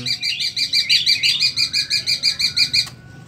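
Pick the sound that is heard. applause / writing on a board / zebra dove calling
zebra dove calling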